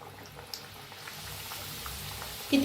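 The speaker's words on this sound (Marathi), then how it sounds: "लोखंडाची कडाई ठेवली मी तळायला छान तळे काढून घेऊया सोडी दोन सोडलेत बघा आता" Dough pieces frying in oil in an iron wok, producing a soft, faint bubbling sizzle that builds slightly, with a brief clatter near the end.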